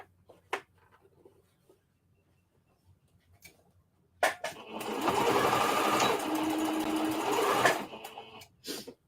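A sewing machine stitches denim while old jeans are turned into a skirt. A few soft clicks and fabric handling come first, then a close, loud, steady stitching run lasts several seconds before it stops.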